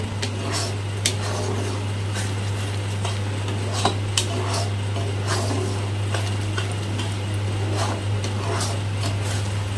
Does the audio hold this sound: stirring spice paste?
yes